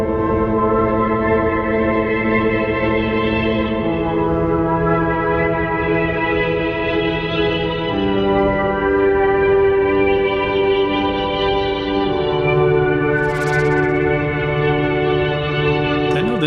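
Korg Wavestate synthesizer playing a multi-sampled sound: sustained layered chords shifting every few seconds, loud and continuous, no voices.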